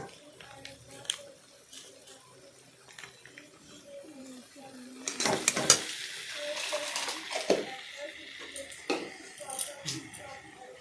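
Spices for a reta fish curry, including Maggi masala and cumin powder, sizzle in a pan while being stirred, with scraping and clinks that grow busier midway, under soft talking.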